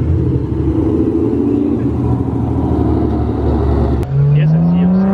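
A BMW car accelerates on a street at night, a loud, close engine rumble swelling and then rising in pitch as it speeds up, with people talking nearby.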